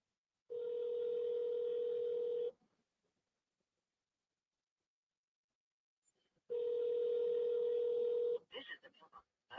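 A steady telephone dial tone during a phone call with connection trouble, sounding in two long flat stretches separated by silence, followed by brief clicks and bursts.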